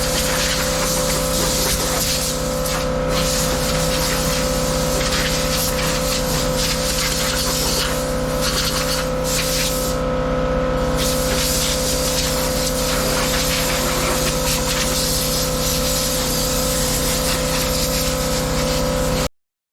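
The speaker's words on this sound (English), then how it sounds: "blew the whole thing off good with the compressed air," Loud continuous rushing blast of compressed air blowing dust off a 1960s Galion road grader, with a steady droning hum underneath, running unbroken for many seconds before cutting off abruptly.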